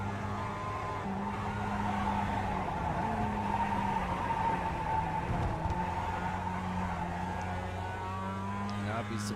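Mazda MX-5 race cars lapping the Charlotte Roval in iRacing, engines droning steadily with shifting pitch through corners and a tire squeal, commentary talking over them.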